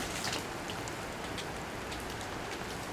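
Melting water dripping from ice-coated trees after an overnight ice storm, a soft, dense patter of many drops like light rain, faint and continuous with scattered clearer drips.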